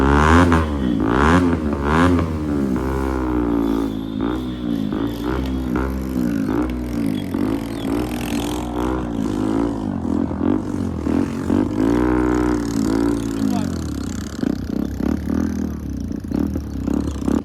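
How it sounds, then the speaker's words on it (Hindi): Several motorcycles rev their exhausts on a mountain pass during a Sikh Nagar Kirtan procession near Alwar, with engine pitch rising and falling in repeated throttle blips, loud and close, over steady background rumble. "यहाँ पे सब अपनी बाइक को रेप कर रहे थे"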